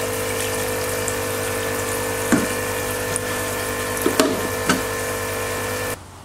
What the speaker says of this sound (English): lots of air bubbles going through the water and lots of nutrient recirculating nicely